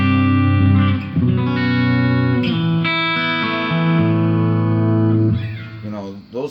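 Open chords ring out on a distorted electric guitar, an Epiphone or Harley Benton, loud and sustained with several chord changes before a final strum fades.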